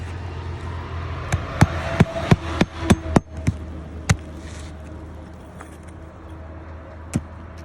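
Sharp hammer blows drive nails, about ten close, loud strikes in a quick uneven run, then a few spaced hits over a low background hum; no talking.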